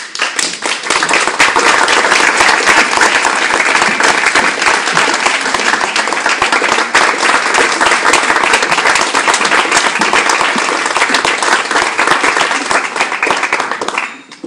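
Long, loud, sustained applause from an audience at a book launch, dense clapping continuing without a break for about fourteen seconds before cutting off.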